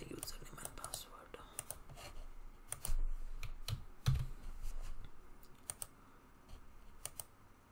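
Quiet typing on a computer keyboard, scattered key clicks and a few louder taps, faint and close, with soft speech in the background.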